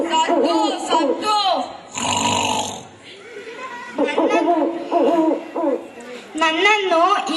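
A voice imitates an owl's hoot in a skit, with repeated vocal hoots mixed with laughter and talk, close and loud, and a short noisy burst in the middle.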